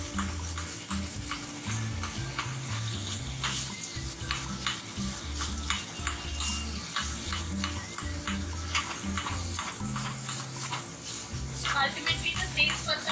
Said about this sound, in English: There goes in my boiled potatoes.